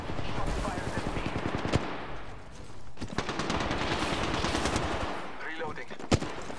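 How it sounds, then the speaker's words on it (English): Automatic weapon fire in the video game Apex Legends, loud rapid bursts of shots in long rattling strings with brief pauses and a couple of sharper single cracks. "Shot fired at me."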